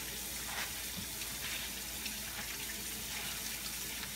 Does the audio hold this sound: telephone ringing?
no